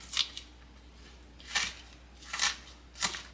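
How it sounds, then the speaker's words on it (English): A kitchen knife dices an onion on a cutting board, making four crisp, separate cuts spaced irregularly over quiet room tone. "What we're going to do is dice this onion up."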